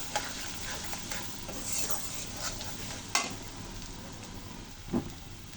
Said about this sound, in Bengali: এটা হালকা একটু ভেজে নেব